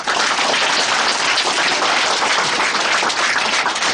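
Audience applause at a parents' meeting for a health foundation, a loud dense burst of clapping that stays steady for the full few seconds with no talking over it.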